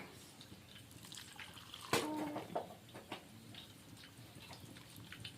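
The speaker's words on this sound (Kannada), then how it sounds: "ಇವಾಗ ಇದಕ್ಕೆ ನೀರು ಹಾಕೋತೀನಿ ರೀ" Water splashes briefly into a mixing bowl in a quiet home kitchen, a short soft pour followed by faint scattered drips.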